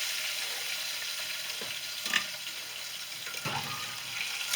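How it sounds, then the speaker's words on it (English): A steak searing in a pan with butter and fat, heard as a soft, continuous sizzle with a couple of brief clatters and bumps from the pan. "So right now we're going to move this steak into the pan and bake it off."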